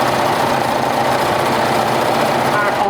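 A sewing machine stitches a skirt hem with twin needles, giving a steady, continuous mechanical whirr that holds level and close throughout without pause.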